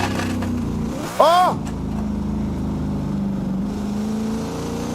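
Simulated Porsche engine in Assetto Corsa, droning steadily in low gear, then a sharp rising rev that sweeps up and falls back within a second, followed by a continued engine hum with a man's brief exclamation over it.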